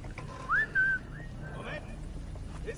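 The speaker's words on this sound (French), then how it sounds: "Je vais essayer de faire un petit coup de sifflet." A short two-part whistle from the player character in Sniper Elite 5, a rising then level tone heard clearly over steady low game ambience.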